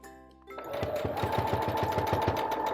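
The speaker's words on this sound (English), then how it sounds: "I'm just going to finish sewing this line" A sewing machine stitches a straight line on a fabric napkin, starting after a brief pause and settling into a fast, even mechanical chatter, close and loud with no talk.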